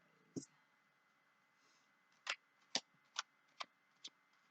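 Tarot cards being shuffled by hand, a quiet sequence of about six crisp papery snaps and clicks, the last five coming in a fairly regular rhythm after a pause, close to the microphone in a silent room.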